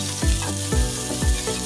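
Mixed vegetables hit hot oil with cumin seeds left over from frying paneer, giving a steady loud sizzle with a few soft stirring scrapes and no talk.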